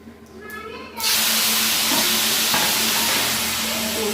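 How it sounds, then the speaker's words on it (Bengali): Marinated pork hits a hot pan for a pork curry, setting off a sudden, loud, steady sizzle after a quieter first second. The hiss then holds evenly to the end. "এখন ম্যারিনেট করা মাংসগুলো দিয়ে দেবো"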